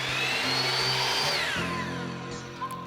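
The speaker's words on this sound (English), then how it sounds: "Next, drill 10mm holes along the bottom J-channel every 450mm, as well as in the corners." A power drill bores 10mm holes in J-channel trim for shiplap cladding, a loud high whine that swells, then winds down near the end.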